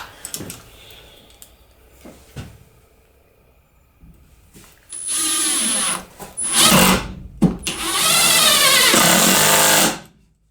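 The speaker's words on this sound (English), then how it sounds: "I want to drive that screw just below the surface of the wood" Power drill driving a screw into wood while building a drill press cart, heard as a few short motor bursts, then sustained loud whirring runs that stop and restart, close by with no talk.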